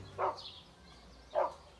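A black Doberman barks at a gate in an audio drama, two separate sharp barks about a second apart, fairly close, over a quiet background with no voices.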